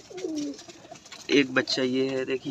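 Pigeons coo nearby in soft, repeated throaty calls, some overlapping, while someone talks over them.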